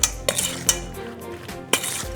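Apple pie filling is stirred in a bowl, with a utensil clinking and scraping against the dish in several quick knocks and a soft churning between them, close and fairly quiet.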